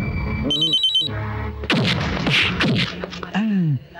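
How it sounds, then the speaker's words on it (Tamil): A ringing telephone in a Tamil film scene sounds repeated electronic trills that go unanswered, while loud effects, crashes and voices crowd in around it. "ரிங் போயிட்டே இருக்கு, யாரும் எடுக்கல பாஸ்."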